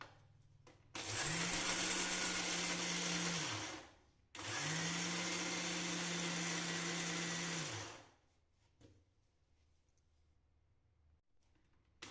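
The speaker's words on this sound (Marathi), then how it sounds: "आपल्याला हे 2 बॅचमध्ये चांगलं मिक्सरला फिरवून घ्यायचं" A mixer grinder powdering oats whirs loudly in two bursts of a few seconds each, revving up and winding down with a short pause between.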